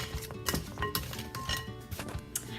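Sausage, potato and vegetables with oregano are stirred in a metal bowl or pan, a quick run of scraping clinks and taps from a utensil, close and moderately loud, with no talking.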